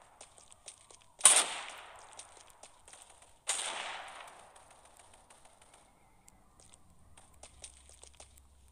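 Two sharp, loud sniper rifle shots ring out a couple of seconds apart in the game FF7 The First Soldier, each with a trailing echo, against a quiet background of faint game ambience.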